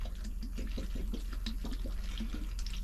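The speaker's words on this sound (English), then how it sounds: "I'm just gonna add a little water in there." Water runs steadily from a tap into a container of cut potatoes, a close, continuous splashing and filling sound with slight bubbling throughout and no talk.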